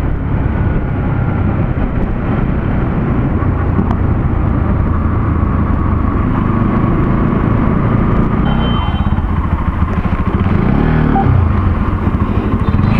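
A Bajaj motorcycle rides along a road through Kanlıca, its steady engine rumble loud and continuous with heavy wind and road noise, the pitch shifting slightly as it changes speed near the end.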